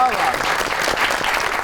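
A studio audience at a comedy talk show breaks into loud, steady applause to welcome a guest, a dense wash of clapping throughout with a voice briefly audible over it.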